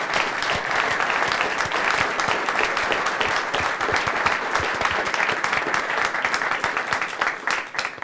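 A room full of people at an end-of-the-Obama-era farewell gathering breaks into dense, steady applause that fills the whole stretch at close range without letting up.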